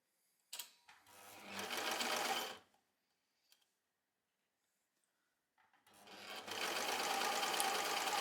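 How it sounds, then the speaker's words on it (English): A domestic sewing machine stitches a bust dart on a wrap top in two bursts of fast, steady whirring, the second longer, separated by a quiet pause with a small click. "Here I'm sewing the bust dart"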